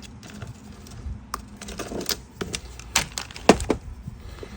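A length of stainless steel lock wire is cut, giving a series of small, sharp snipping clicks and taps close by over a low background rumble, with a louder crisp snap near the end.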